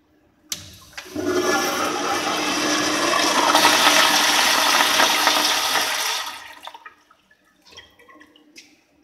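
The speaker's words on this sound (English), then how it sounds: "Zurn toilet." A Zurn toilet in a college men's restroom flushes with a loud, close rushing whoosh of water lasting about five seconds, then trails off into soft refilling trickles and drips.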